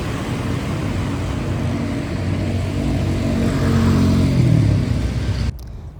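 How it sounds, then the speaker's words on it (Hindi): A car engine hums and swells steadily as the vehicle draws near, growing a little louder before cutting off abruptly near the end, with no voices. "जी गाड़ी आ चुकी थी हमारी"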